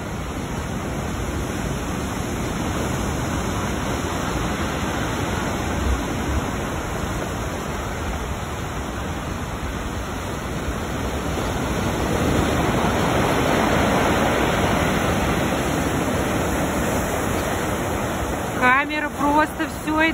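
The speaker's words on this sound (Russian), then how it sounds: "страшные волны." Stormy sea waves at Sochi in winter, a continuous loud roar of surf and wind-driven water that builds midway, with a brief voice at the end.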